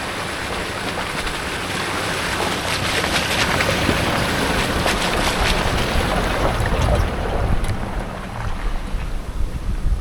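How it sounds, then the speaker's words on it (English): Loud, continuous wind buffeting a microphone fitted with a small windsock at a Cape York spot, with roaring gusts and rumbling low-end noise throughout and no voices. "we are pushing the limits of the little windsock on this microphone"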